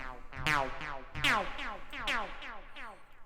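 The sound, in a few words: plucky techno synth in Ableton, pitch envelope time at 48%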